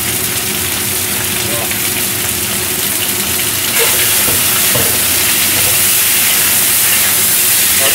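Chicken searing in a hot oiled pan for a shiitake mushroom chicken braise: a loud, continuous close-up hiss that swells brighter about halfway through.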